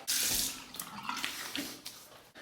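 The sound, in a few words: running water rinsing face after shave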